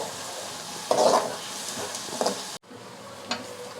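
Onions sauté with ginger garlic paste in a pan for potato masala, sizzling and frying up close as a spoon stirs in a few scraping bursts, with a brief cut in the middle.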